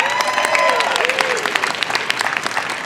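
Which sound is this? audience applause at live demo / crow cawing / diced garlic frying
audience applause at live demo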